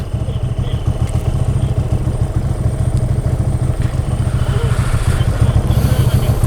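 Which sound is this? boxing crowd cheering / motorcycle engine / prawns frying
motorcycle engine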